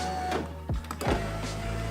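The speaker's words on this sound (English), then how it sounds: "Alright, so the window works again. The motor works fine now." A Nissan 350z power window regulator motor runs in a steady whir, with two brief changes in pitch partway through as it starts and stops, close and fairly loud.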